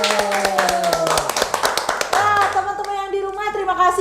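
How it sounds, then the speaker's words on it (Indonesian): Handclapping, a quick run of sharp claps over lingering musical tones and background sound, fairly close. "Tepuk tangan."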